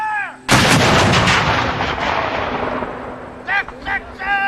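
A Civil War cannon fires at a Gettysburg battlefield demonstration: a single huge, sharp boom that rolls and echoes for several seconds, with a short shouted command beforehand and brief voices afterward.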